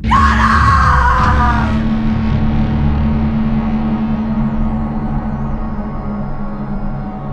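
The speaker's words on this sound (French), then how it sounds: "Puis elle se met à crier et faire des mouvements incohérents." A woman screams loudly and close for about two seconds, then a rough sustained yell or groan carries on and gradually fades, with no other talk.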